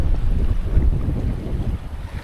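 Strong wind rushes over a sailboat running downwind off the Greek islands near Lemnos, with a steady loud roar and buffeting gusts against the microphone and faint water wash beneath.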